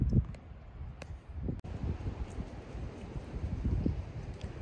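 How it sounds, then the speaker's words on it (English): Wind gusting outdoors across an open farm field prepared for planting, a steady low rumble of buffeting against the microphone with a few brief knocks, no voices. "It's windy out today though"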